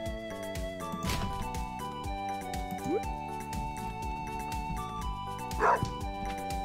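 A dog barks a couple of times in the farming game Stardew Valley, short game-style yips over steady background music and chimes.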